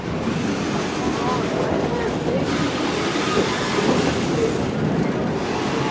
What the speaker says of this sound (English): Those are the freight locomotives on the Arizona Railroad.